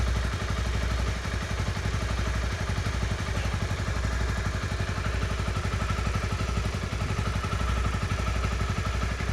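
A 2013 Honda CBR250R motorcycle engine idles steadily after an oil change, its low, rapid putter holding an even rhythm throughout with a light mechanical clatter on top.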